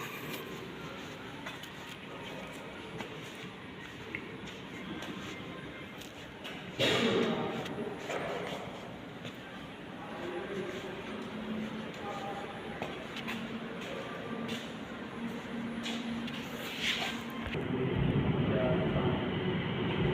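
A metro train pulls into an underground station in Romania, its loud rumble swelling suddenly and holding steady over a noisy platform, with a further surge of rolling noise near the end.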